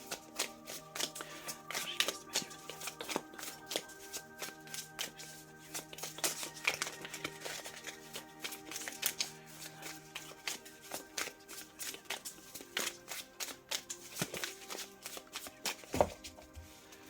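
Tarot cards from a Smooth Start Tarot deck being shuffled by hand, a dense run of soft papery flicks and taps repeating close up for the whole stretch, with no voices over it.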